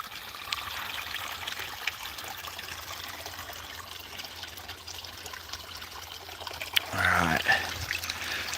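An 800-gallon-per-hour bilge pump runs water through a gold clean-up setup, giving a steady trickling wash. A louder gush of pouring water breaks in near the end.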